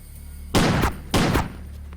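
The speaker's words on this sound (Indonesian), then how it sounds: "Mereka saling menembak dan uang dibawa pergi." Two loud, close bursts of gunfire in a shootout from an Indian action film, each a sharp crack with a short rattling tail, the second following about half a second after the first fades.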